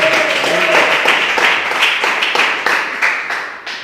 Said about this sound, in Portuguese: Bate as palmas bem alegre para Jesus.